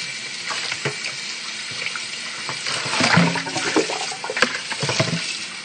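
Tap water runs steadily into a sink while a skinned squirrel is rinsed, a close continuous splashing with shifting gurgles and a few brief clunks, no voices.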